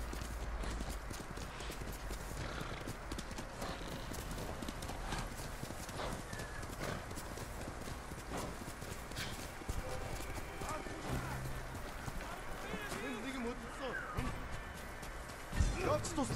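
Horse hooves gallop in a steady, rapid clip-clop through the Ghost of Tsushima video game, with an occasional whinny, heard close and continuous beneath other game sounds and voices.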